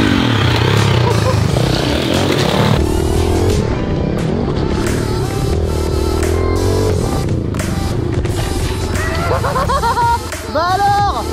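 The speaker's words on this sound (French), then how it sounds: "Moi avec ma mini moto, Robin avec la sienne" A mini motorbike ridden around a track and skatepark, its small engine buzzing and revving loudly up and down with pitch sweeps, while people talk over it.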